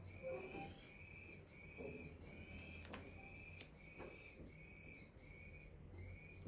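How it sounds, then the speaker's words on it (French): A bird calls in a steady series of high, pulsing notes, roughly one per second, repeating evenly over a faint background hum. "Vous entendez, c'est un oiseau."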